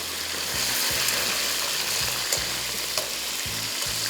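Green chillies fry in hot oil for a meat and chilli salan, a steady soft sizzle with a few sharp crackling pops over a low pulsing hum, heard alone.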